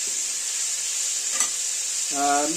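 Atlantic cod fillet frying in a pan gives a steady, moderate sizzle, with a brief scrape or flip near the middle and a short tonal squeak near the end, no voices.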